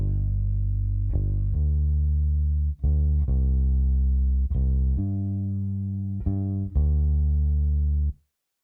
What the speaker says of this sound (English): we've got a bass guitar here and it basically sounds like this